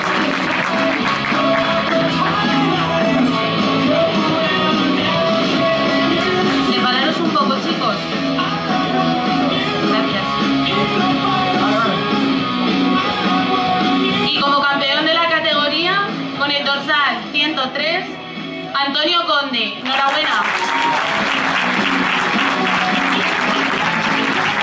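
Sustained audience applause at a bodybuilding championship in Parla, Spain, loud and steady clapping from the crowd, with a voice on a microphone speaking over it.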